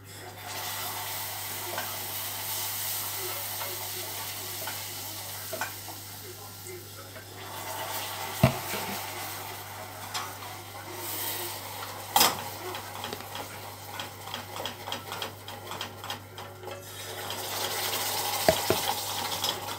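A spoon stirs salted butter caramel in a pan: soft continuous scraping and faint bubbling, with a few sharper clinks of utensil against metal near the end, under a low steady hum.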